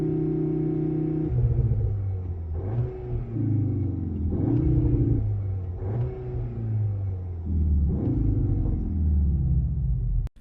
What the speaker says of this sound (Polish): Cupra dodała do kabiny fatalny syntezator dźwięków, który jest kompletnie niepotrzebny.